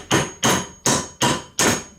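Five evenly spaced metallic hammer blows drive a U-joint cap into place, each a sharp ringing strike with a short decay, close and loud with no speech.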